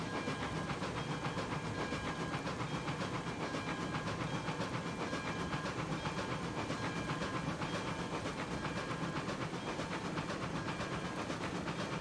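A steam locomotive runs in the railroad simulation game Railroads Online, giving a steady, loud hiss and rumble with faint rhythmic rail clatter throughout.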